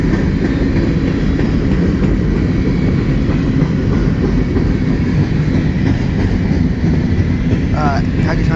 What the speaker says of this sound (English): Still going, look at that. Good train.